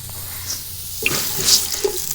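Water poured into a pot of rice for coconut milk rice, a short splashing trickle that swells briefly near the end, close and moderately loud against a quiet kitchen background.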